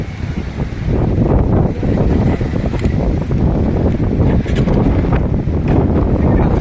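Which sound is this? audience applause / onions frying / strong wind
strong wind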